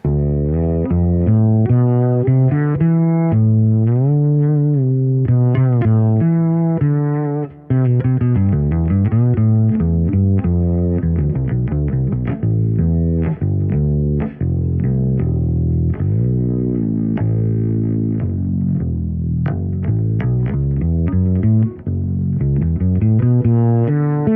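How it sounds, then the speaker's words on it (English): A six-string fretless bass plays a long, flowing melodic line, its notes gliding and ringing out with echoing delay and a spacious reverb tail. "Let me try another preset that I made here with a little bit of delay and reverb"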